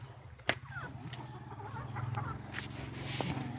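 Chickens cluck softly nearby over a low background hum, with a couple of sharp knocks and scattered bird sounds.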